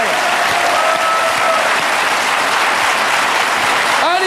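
A television studio audience applauds for the singer, sustained and thick clapping at full volume from start to finish, with a faint tone briefly audible underneath.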